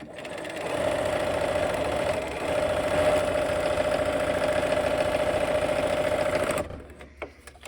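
A sewing machine stitches quilt blocks a quarter inch from a diagonal line, producing a steady, loud mechanical whirring hum that runs for several seconds and then stops, leaving a few faint clicks.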